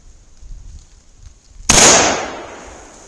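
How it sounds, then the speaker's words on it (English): Single loud rifle shot from a Winchester 1894 lever-action .30-30 firing 170-grain ammunition outdoors: a sharp, close crack about halfway through, then a decaying echo, with a quiet background before it. "These last two shots."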